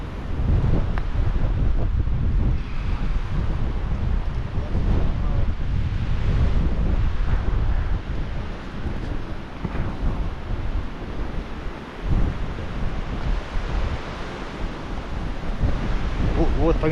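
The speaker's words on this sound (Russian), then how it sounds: "Сейчас, конечно, ветер бушует капитально." Strong wind roars and buffets the microphone steadily throughout, with a constant broadband rumble and gusty surges, on the climb to Yoros Castle in Istanbul.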